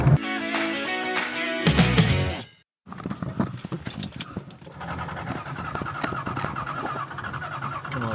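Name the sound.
1978 Aston Martin V8 Vantage car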